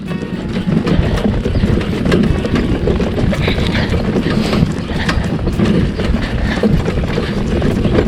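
Horse trotting in a schooling arena, hooves beating out a quick even rhythm throughout, loud and close, overlaid with heavy wind buffeting the microphone.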